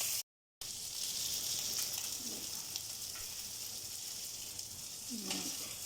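Fish fries in a pan on low heat with a soft, steady sizzle close by, with a couple of faint clinks from the pan.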